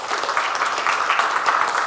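Audience applause fills a room at a community talk on work and social services. A dense, steady wash of clapping from many people runs evenly throughout, with no talking over it.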